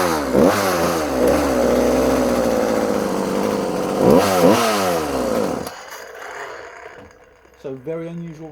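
A vintage Husqvarna 41 chainsaw running unevenly, its engine surging and revving loud and close, bogging down in two rises before cutting out abruptly, then coughing briefly as it tries to restart.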